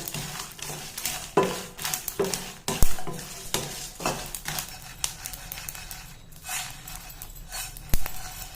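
Dried red chillies frying in a pan in a home kitchen, a steady loud sizzle with repeated stirring scrapes and utensil clinks throughout, no talking.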